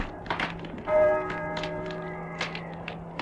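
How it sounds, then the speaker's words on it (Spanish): A church bell tolls with a long sustained ringing tone that hangs under faint scattered taps and knocks, fairly distant and steady. "¿Oyes? Las campanas doblan."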